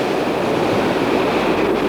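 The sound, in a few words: sound of the sea, waves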